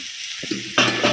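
Masala fries in oil in a wok, a close, loud crackling sizzle with a brief stirring scrape before it surges louder.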